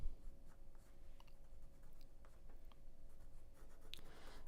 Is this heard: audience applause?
no